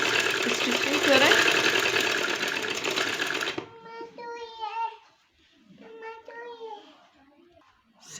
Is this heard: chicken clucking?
no